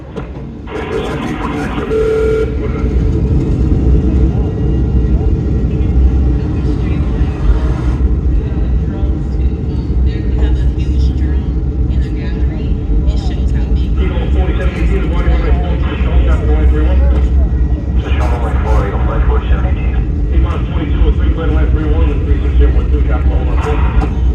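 Airliner taking off from runway 4, heard as a museum exhibit recording: a loud, steady engine roar and rumble fills the whole stretch, with a voice speaking over it.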